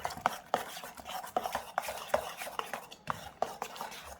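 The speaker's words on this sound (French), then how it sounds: "On continue à mélanger." Almond pear tart batter being stirred in a bowl with a utensil, with repeated close scraping and clinking strokes against the bowl at an uneven rhythm, no voices.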